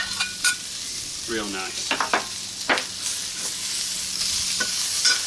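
Garlic and chilli stir-fry in a wok over a rocket stove, a soft sizzle with several sharp scraping strokes and metal clanks from the utensil, close up, with a brief voice speaking over it.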